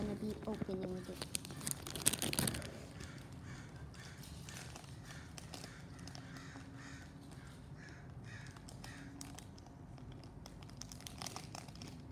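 Crinkling plastic packaging from a dollar store item, with a loud burst of rustling around two seconds in and then quieter scattered crackles against a steady indoor background.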